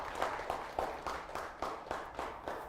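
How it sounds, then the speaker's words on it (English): A small group at a public speaking workshop gives a faint, sparse round of applause, with distinct claps landing in a loose, fairly regular rhythm. "Let's give him a round of applause."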